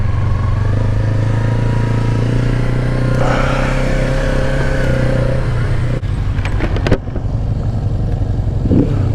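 A Mini Rip motorbike heads out on a race practice lap, its engine a steady close drone with a few sharp clatters near the end. Someone talks over it.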